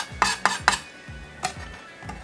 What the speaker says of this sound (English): Just scrape those off with your knife.